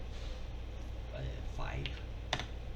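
A few quiet key presses on a computer keyboard while entering a number, soft isolated clicks heard close against a low background hum, with a person speaking briefly.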